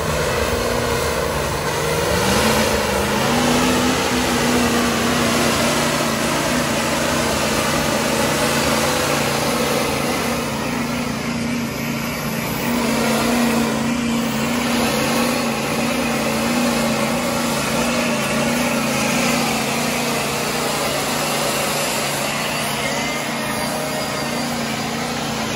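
Truck engine revving hard during a tug-of-war pull, a loud sustained drone with a rising pitch early on, then holding steady at high revs for a long stretch with no voices.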